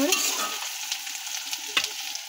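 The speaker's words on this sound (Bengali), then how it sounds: "দেখো এমন করে ভেজে নেব" Ingredients frying in a pan while being stirred for a hilsa fish head and taro leaf dish, a steady sizzle under intermittent scraping strokes of a spatula, close and moderately loud.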